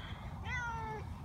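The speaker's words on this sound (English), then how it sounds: "found some cat in my yard and started petting it" A cat in a yard gives one clear, close meow lasting about half a second, with steady low background noise around it.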